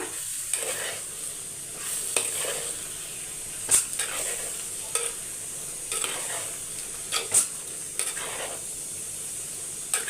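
Chopped kohlrabi and greens sizzle steadily in a hot pan while a spoon stirs and scrapes them, with a constant hiss broken by several sharp, regular scraping strokes.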